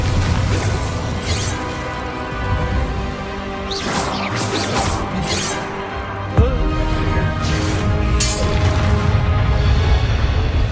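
Bombarda blasting spell explosions in Hogwarts Legacy, a dense loud combat mix of whooshes, crashes and a sharp impact burst midway over rumbling background.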